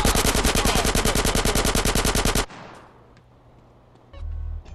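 Dense, rapid automatic gunfire in GTA San Andreas Definitive Edition, loud and continuous for over two seconds before it stops abruptly, followed by quieter game ambience and a low engine-like hum.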